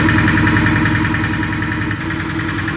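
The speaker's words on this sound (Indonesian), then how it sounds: "Periksa apakah traktor hidup dengan normal, baik suara, asap knalpot, dan tekanan." A tractor engine idles close by, steady and loud, with a low, even rumble and a regular chugging pulse throughout.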